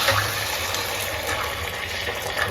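Boiled chickpeas and their cooking water pour in a steady, continuous splashing rush, close and fairly loud, with no talking.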